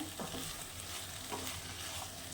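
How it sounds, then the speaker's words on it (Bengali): Taro greens sizzle and crackle in a wok under continuous stirring, a dense frying noise with soft scrapes, close and without speech. "কড়াই থেকে একদম কচুর শাক ছেড়ে গেছে দেখুন পুরো হয়েই এসেছে"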